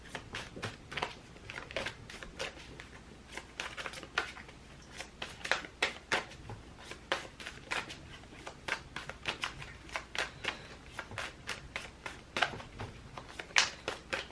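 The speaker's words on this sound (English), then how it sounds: "So let's just keep shuffling." Oracle cards being shuffled by hand, a steady run of crisp riffling bursts and soft card slaps repeating close to the microphone for the whole stretch, with no voices.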